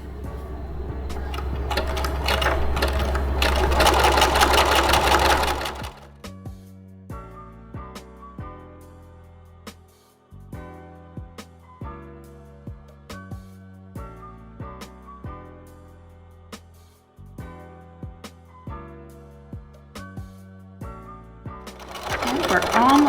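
A sewing machine stitching around the edge of a baby blanket, with a loud sustained run at the start and another at the end, and plucky background music filling the stretch between.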